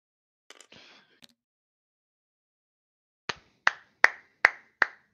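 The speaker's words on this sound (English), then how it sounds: "Round of applause, everybody." A short burst of clapping, about five sharp claps in a slow, steady rhythm, preceded by a few faint scattered sounds and silence.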